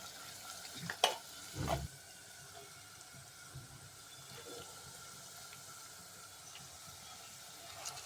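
Ground coriander and garam masala being stirred into a pan of Khandeshi eggplant bharit: a couple of brief scraping knocks early on, then a faint, steady low sizzle with no voices.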